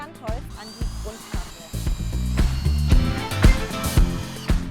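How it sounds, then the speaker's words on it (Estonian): A power drill bores a pilot hole into wooden side boards for a homemade cinema screen frame, heard as a rising whir with repeated short bursts and knocks near at hand, amid backyard workshop noise. "selleks puurin eelnevalt augu"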